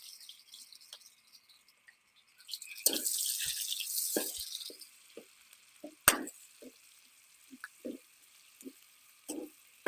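Onions hit a hot pan already holding toasted ingredients, with no extra oil added. A loud sizzling burst rises and then settles into scattered pops and crackles against quiet.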